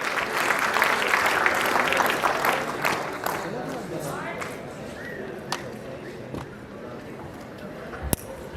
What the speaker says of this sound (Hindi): अच्छी वाली तालियों के साथ।